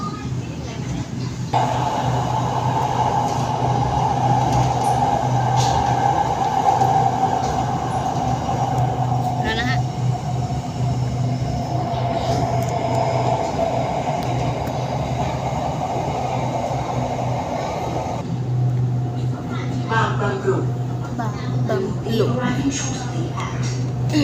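A Red Line electric commuter train rolls into Bang Bamru station in Bangkok, a steady loud rumble with a rising motor whine and rail noise running throughout, easing slightly near the end as it slows.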